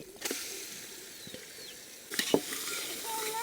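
Spoon stirring country chicken curry with ginger paste, turmeric and gravy in a pan, a few scraping knocks over a soft, continuous sizzle.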